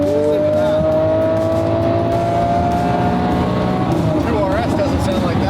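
A McLaren Senna hypercar with a straight-piped exhaust roars loudly and steadily, its engine note rising and shifting with a brief tire-squeal-like whine, heard up close from inside or beside the car.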